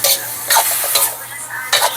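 Adobo of pork and eggs being stirred with leaves in a home pot: three or four scraping bursts of a spoon against the pot, spaced by short gaps, over a faint steady background hum, with no one talking.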